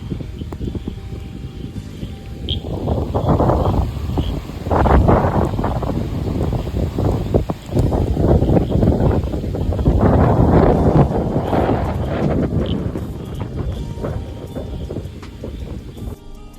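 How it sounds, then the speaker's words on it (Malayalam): Strong wind and rain sweep through forested hills at Siruvani, a loud, continuous buffeting roar with heavy gusts hitting the microphone throughout. "അത്രയ്ക്കും മഴയും കാറ്റുമായിരുന്നു ഞങ്ങൾ വന്നപ്പോൾ"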